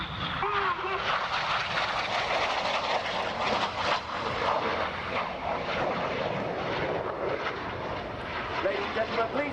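Red Arrows jets flying a display at the Royal International Air Tattoo, a continuous broad roar of engines that stays loud throughout, with an announcer's voice heard over the noise.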